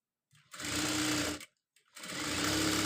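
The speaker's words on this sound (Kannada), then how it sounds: "ಈ ಥರ ಉಲ್ಟಾ ಮಾಡಿಕೊಂಡು ಈ ಥರ ಮೇಲೆ ಒಂದು ಮೇಲೆ ಒಂದು ಹೊಲಿಗೆನ ಹಾಕ್ಕೊಳ್ಬೇಕು" A sewing machine stitches a blouse sleeve in two loud, steady bursts of fast mechanical whirring, separated by a brief pause.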